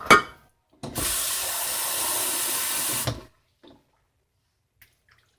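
Water pours steadily from a tap into a cooking pot for about two seconds with a hissing splash, followed by a few faint clinks and no talk.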